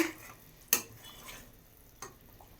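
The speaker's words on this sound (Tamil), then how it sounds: "நல்லா மிக்ஸ் பண்ணிவிட்டு" A spoon scrapes and knocks against a pot a few times as thick moong dal curry is stirred, with quiet pauses between strokes.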